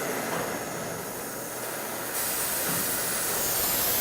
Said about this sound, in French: on va venir chauffer juste le boulon